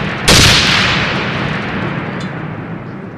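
A grenade packed with 59 grams of PETN, ball bearings and splinters detonates against a protected vehicle: one sharp, loud blast followed by a long rumbling decay and a faint later crackle.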